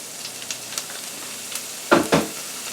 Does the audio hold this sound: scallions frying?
yes